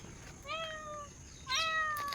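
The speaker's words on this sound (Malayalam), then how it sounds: "പൂച്ച." A cat meows twice outdoors during an evening walk, two drawn-out, wavering cries about a second apart, fairly clear against a quiet background hiss.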